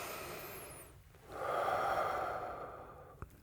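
One slow, deep breath, drawn in softly and then released as a long airy exhale, close and quiet in a calm ASMR setting.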